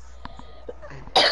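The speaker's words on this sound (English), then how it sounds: "I'm coughing too much." A single close, loud burst of coughing near the end, after a few faint scattered noises, with no talk.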